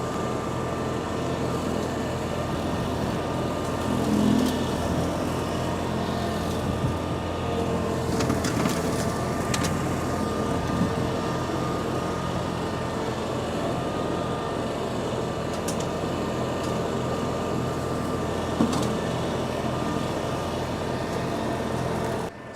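An Iseki SRA950F wheeled brush cutter chomps through material on a slope of about 20 degrees, its engine a loud, steady drone that holds for the whole stretch with no one talking.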